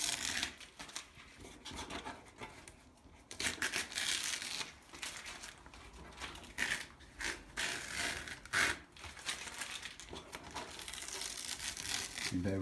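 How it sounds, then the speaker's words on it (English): Masking tape is peeled off a small watercolour painting on paper, giving a continuous close crackling, crinkling and tearing texture for about twelve seconds with no talking. "Always exciting, this bit, when you take the tape off."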